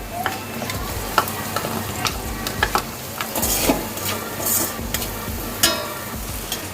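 Chopped onion frying and being stirred in a pan for dahi bhindi masala, with steady close sizzling and crackling broken by scraping stir strokes and occasional utensil clinks, no talking.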